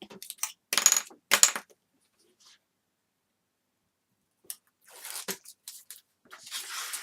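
A backing sheet is peeled off a miniature-base cover in a few short, crisp tearing bursts, followed by quiet, then more soft crackling and rustling nearby.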